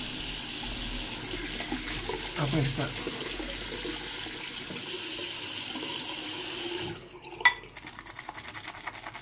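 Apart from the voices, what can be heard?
hot water running from a tap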